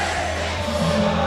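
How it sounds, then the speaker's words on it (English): A boxing venue crowd chanting boxer Jamie Porter's name after the fight, a broad, loud, sustained roar of many voices with a rough tonal chant running through it. "You could still hear the crowd singing Jamie Porter's name here"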